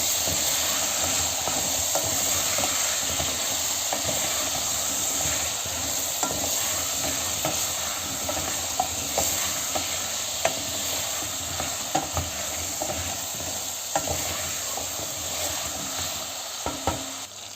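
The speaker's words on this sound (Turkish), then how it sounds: "Biraz da arka soğanlarımı da çeviriyorum." Shallots being stir-fried in a pan for a chickpea stew, a continuous close sizzle and hiss with scattered scraping and stirring clicks, steady throughout with no talk.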